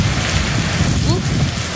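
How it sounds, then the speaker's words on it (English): Heavy rain and strong winds during Hurricane Ian in Sarasota, Florida, a loud, constant roar of wind and rain buffeting the microphone, with a faint voice briefly present. "strong winds, lots of rain, lots of branches"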